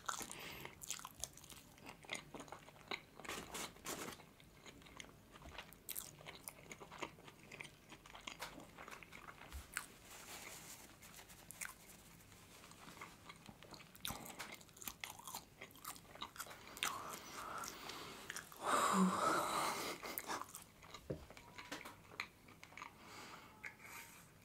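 Close, intimate bites and crunchy chewing of a huge double cheeseburger in an eating ASMR session, with repeated soft chomps and mouth sounds over a quiet background.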